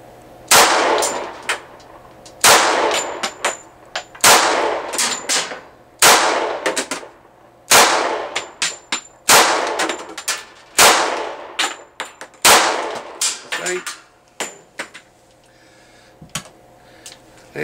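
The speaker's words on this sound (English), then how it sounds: "hopefully you guys can see the gun shooting" An RIA 1911 pistol fires indoors inside a house, with sharp loud gunshots in quick pairs and short strings, each followed by a ringing metallic echo, about a dozen bursts spaced a second or two apart.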